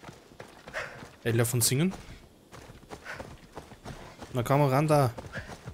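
Horse hooves clip-clopping in the video game Assassin's Creed Odyssey, a soft rhythmic patter under someone talking and a loud sung or drawn-out vocal phrase.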